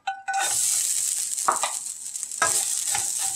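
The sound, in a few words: grated coconut frying in a pan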